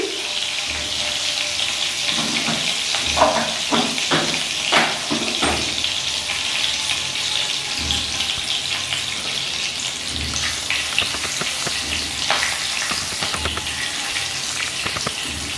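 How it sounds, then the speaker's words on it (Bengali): Whole cumin and radhuni seeds tempering in oil over a low flame, a loud continuous close-up sizzle with repeated sharp crackles and stirring clatters scattered throughout. "এক মিনিট ধরে ফোড়ন ভেজে নিলাম ভালো করে।"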